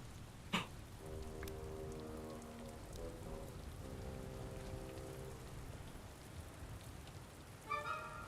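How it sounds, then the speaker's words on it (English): Rain patters steadily and quietly in Sniper Elite: Resistance, a soft hiss of drops on surfaces with faint tonal game sounds and a couple of brief knocks over it. "I hate it when it rains."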